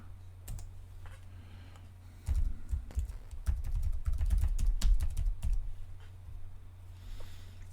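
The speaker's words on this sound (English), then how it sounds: "I want to hide the password. I'm going to type." Computer keyboard typing: a password entered in quick bursts of clicky keystrokes, close and fairly loud over a steady low hum, with a quiet gap before and after the main flurry.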